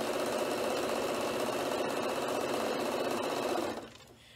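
A sewing machine runs fast and steady, stitching over previous seams on a bag, then stops abruptly near the end, leaving a quiet room hum.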